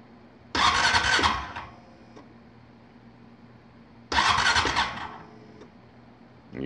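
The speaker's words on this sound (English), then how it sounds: "And we'll crank it up. It's cold start." Two bursts of an electric starter cranking a 2014 Honda Foreman 4x4 TRX500 ATV engine on a cold start, each about a second long, separated by a pause with a faint electric fuel pump hum in between.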